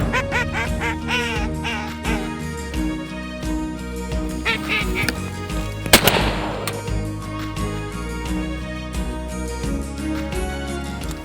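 Ducks, including gadwall, quack in dense repeated calls during a Delta duck hunt, loud and close, with a sharp gunshot cracking out midway.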